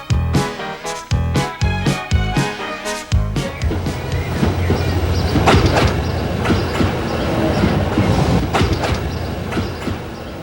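A train rolls along rails through mountainous Austria with rhythmic clickety-clack beats that blend into a steady rumble, loud and close, with no talking.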